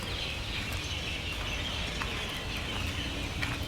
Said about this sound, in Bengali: পাখিদের ডাক শুনুন।